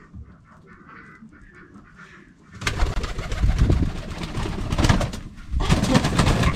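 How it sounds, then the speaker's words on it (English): Fancy pigeons coo softly and intermittently, fairly close, with fluttering and shuffling noises growing louder partway through, and no talking. "I like pigeons."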